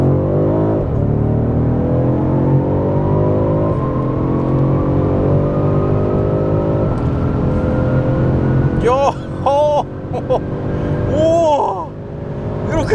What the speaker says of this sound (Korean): 변속기는 좌측으로 밀어서 S 모드 상태에서 가속 페달만 전개해서 진행을 해 보도록 하겠습니다. 여기서 가속.